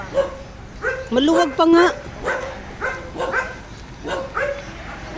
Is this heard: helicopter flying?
no